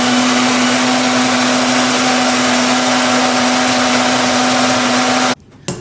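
An electric blender whirs loudly and steadily with a constant motor hum while pureeing tomatoes and salt for salsa. It runs alone and then cuts off abruptly near the end.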